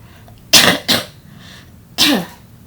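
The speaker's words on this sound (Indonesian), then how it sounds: "Maaf, agak batuk." Two quick coughs close together, followed a moment later by a third harsh cough, near and fairly loud with quiet in between.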